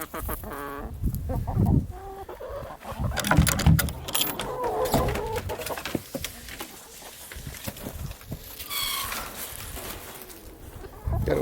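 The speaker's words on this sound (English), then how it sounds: "Let these chickens out now." Chickens clucking loudly and close on a homestead as they are let out of their coop, with bursty clucks and squawks throughout, a rooster among them, and a voice briefly heard.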